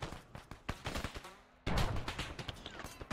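Heavy gunfire in Arma 3, a military shooter game, sounds as dense rapid shots and bursts, some loud and near, with a sudden louder barrage partway through.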